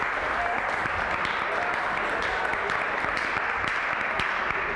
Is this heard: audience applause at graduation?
yes